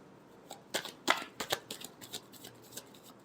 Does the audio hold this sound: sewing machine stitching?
no